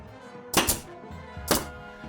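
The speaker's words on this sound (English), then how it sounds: "These nails are specially designed by Hilti for this application, and they shoot so hard and so fast they actually create a weld between the nail and the" A Hilti nail gun drives nails through lumber into a steel beam, two sharp, loud, close bangs about a second apart, each with a brief rattling tail.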